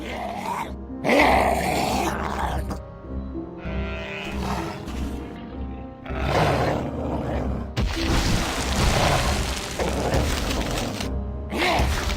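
Snarling, growling dogs in American McGee's Grimm, a dark fairy-tale video game, heard as a run of loud guttural roars and barks over a low droning game soundtrack.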